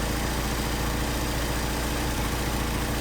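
A Mercedes 190SL engine fitted with Solex 44PHH carburetors idles steadily and evenly, a continuous close mechanical drone with no voices over it.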